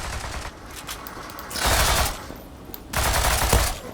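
Bursts of automatic gunfire from the online shooter game Zula, two loud sustained volleys with scattered single shots between them, heard up close with no talking.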